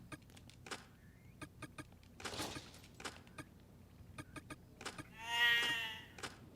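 Goats in the video game Zanki Zero give a drawn-out bleat near the end, faint and somewhat distant, amid a quiet series of scattered clicks and soft ambient noise with no talk.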